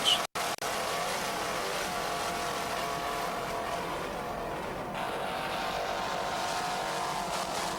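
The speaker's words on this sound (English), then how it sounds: "Just listen to those two 500 horsepower Mercury engines." Two 500-horsepower Mercury engines on offshore racing powerboats roar steadily and loudly throughout, a thick continuous mechanical drone broken by a couple of brief dropouts at the start.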